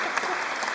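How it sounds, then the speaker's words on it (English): Audience applause at a live translation slam event, a short steady wash of clapping from a seated crowd, moderately loud and continuous for under a second. "Big round of applause for sameness"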